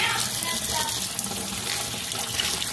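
Crabs are rinsed under a running tap, a steady close splash and hiss of water that lasts the whole moment without a break.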